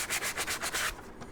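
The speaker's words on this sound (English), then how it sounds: "do a little sanding" A book case is hand sanded with fine 400 grit sandpaper in quick, even back-and-forth strokes, about seven close, raspy rubs that then stop.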